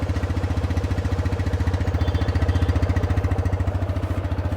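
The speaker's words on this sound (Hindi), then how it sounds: "आइए एग्जॉस्ट नोट सुनाता हूँ मैं आपको।" A Bajaj Freedom 125 CNG motorcycle idles steadily, its exhaust putting out an even, close, low thumping pulse with no voices over it.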